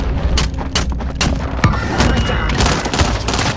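Gunfire during a Call of Duty Warzone rebirth match, video game: loud, dense bursts of shots and booms overlapping in a steady barrage.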